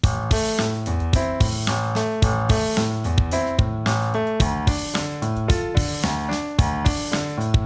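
Piano chords repeat in a steady, bouncy pattern over a regular drum beat, loud and close, with no voices.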